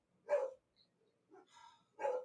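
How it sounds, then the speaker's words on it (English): A dog barks outside, three short, fairly faint barks spaced apart with a few softer yips between them, heard at a distance with no talking. "Sorry about the dog out"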